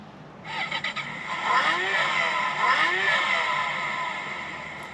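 Kids electric ride-on car switching on, a few quick clicks followed by a bright rising electronic startup tone with two swooping chime sweeps, then a sustained hum that fades slightly.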